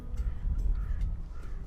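A large bird, likely a crow, gives a series of repeated harsh caws, four evenly spaced calls over a low rumbling outdoor background.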